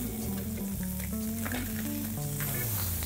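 A sea bass fillet fries in a pan with a dense, steady sizzle close at hand, along with a few faint scraping and stirring sounds and no speech.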